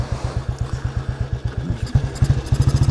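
A Royal Enfield Bullet 350 classic single-cylinder motorcycle thumps along on a ride, its slow, evenly spaced exhaust pulses loud and close, quickening slightly as the engine picks up pace.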